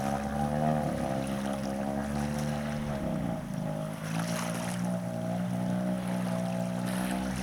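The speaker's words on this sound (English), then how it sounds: "the engine is screaming. And the reason for the engine screaming is because it's a short shaft engine and isn't actually in the water" A short-shaft outboard boat engine revving hard with its propeller out of the water, a steady loud whining drone with strong tonal harmonics that shifts pitch slightly midway, running continuously throughout.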